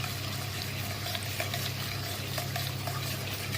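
Chopped onions sizzle steadily in hot ghee in a pan for Peshawari beef, a dense continuous hiss with occasional stirring scrapes, close and fairly loud throughout.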